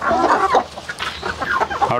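A large parent-stock hen on a Tamil poultry farm, a rare breed, clucks in repeated close, fairly loud calls, with other fowl sounding around it and no talking.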